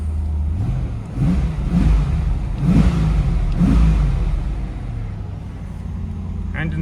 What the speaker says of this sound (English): Engine seems to run decently well.